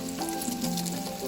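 Bacon fries in a pan with a brief, soft crackling sizzle heard close up, with no voices.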